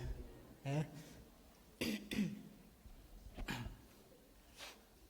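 Several short, raspy coughs and throat clears come in separate bursts, close and fairly loud, with quiet breathing in between.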